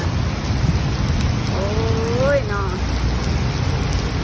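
Heavy rain pours down steadily and close by in Bangkok at night, a dense continuous hiss, while a voice briefly exclaims partway through.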